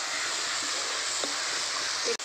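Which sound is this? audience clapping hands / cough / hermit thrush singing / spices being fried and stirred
spices being fried and stirred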